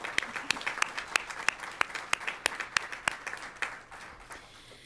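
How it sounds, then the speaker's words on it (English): An audience at a school board meeting applauds a school choir performance, with sharp individual claps standing out over a softer crowd patter. The applause starts fairly strong, then thins and fades toward the end. "Let's give them one more round of applause."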